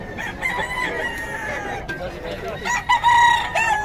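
A gamecock rooster crows loudly and close at a market, its cry mixed with clucks and other fowl, while people talk nearby.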